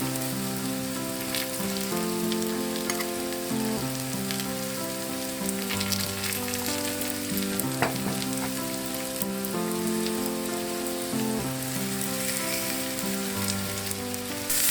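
Pork chops and potatoes frying together in one pan, a steady dense sizzle and crackle holding at an even level throughout, with no talking.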